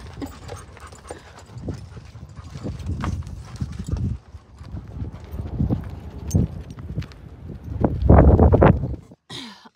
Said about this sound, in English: They're gonna gather some mares for Monster, and then we'll push them across the river